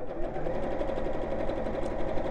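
A sewing machine stitches around the edge of a felt Easter egg decoration, a fast, even mechanical chatter heard up close and uninterrupted.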